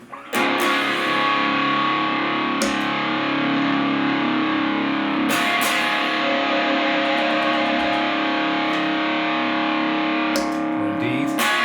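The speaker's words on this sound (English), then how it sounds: "So if I put on the distortion," Electric guitar played through the distortion channel of a Caline Lorcan portable practice and busking amplifier, a steady saturated, fuzzy tone sustained for about twelve seconds with a few sharp pick attacks, loud and close, no talking.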